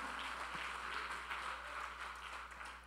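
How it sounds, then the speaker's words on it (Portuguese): Applause from a church conference congregation after a closing prayer, a steady, even wash of clapping held at moderate distance for the whole stretch, with no voices standing out. "dá um aplauso aí"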